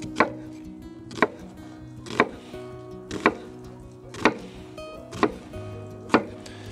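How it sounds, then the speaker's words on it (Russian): An onion is finely chopped with a knife on a board, giving seven crisp, evenly spaced chops about a second apart over a low steady background hum, with no speech. "пока мы режем лучок"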